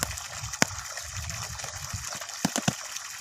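Climbing perch fish being released into water, heard as a steady close gush and trickle with a few sharp splashes near the end.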